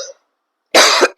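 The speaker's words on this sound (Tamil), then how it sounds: "அடிக்கடி இருமல் வருது திடீர்னு" A single loud, close cough bursts out on its own, a short harsh rasp that ends in a brief catch, preceded by a faint trace of a voice.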